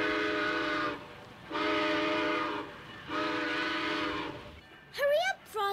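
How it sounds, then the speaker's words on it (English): A train horn sounds three long, loud blasts in a row, followed by a short burst of voices. "The train is pulling out."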